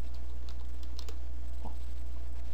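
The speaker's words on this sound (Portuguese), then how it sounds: "a gente pode digitar o nome da igreja que a gente está procurando" Someone types a church name as a search term on a computer keyboard, giving a run of light, fairly close key clicks over a steady low hum, with no talking.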